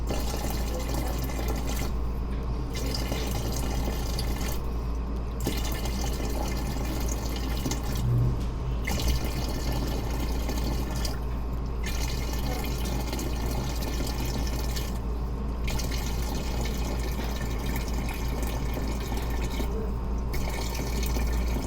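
Water pours steadily into a bottle, a continuous close-up liquid rush with faint dripping, running alone without speech throughout.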